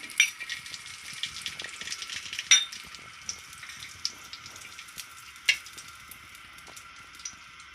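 Desi ghee heats in a pan on a gas stove with a soft, continuous sizzle and crackle, marked by a few sharper pops and utensil ticks, quiet and close without speech.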